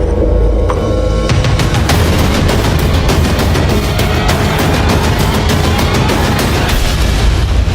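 Anti-aircraft guns aboard the cruiser USS Salem fire in a loud, dense barrage, sharp rapid reports overlapping into a continuous booming clatter after a brief quieter opening.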